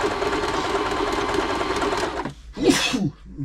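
A Bernette b35 sewing machine stitches steadily at a fast, even rate for about two seconds, then stops briefly before a short loud burst of noise that sounds like a sneeze.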